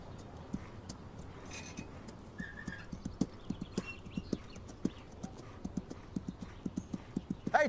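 Horse hooves clip-clop in a steady, even walking rhythm on a hard surface, fairly close, with faint background noise.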